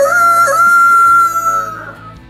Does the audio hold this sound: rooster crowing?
yes